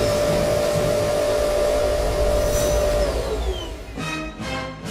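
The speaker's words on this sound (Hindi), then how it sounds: "वैक्यूम सिस्टम ऑन करो।" A cartoon vacuum system powers up with a loud, steady whirring roar and a held whine that slides downward, then breaks into pulsing bursts near the end.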